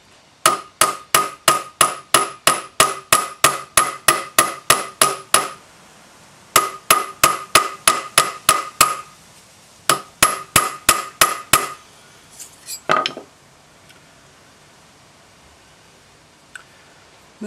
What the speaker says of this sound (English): So initially I'm going to lean the hammer forward and get this front edge.